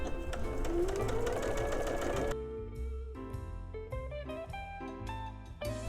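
A sewing machine runs close and loud, stitching a line across a quilt block, its motor whirring steadily while the pitch shifts and rises with the speed of the stitching.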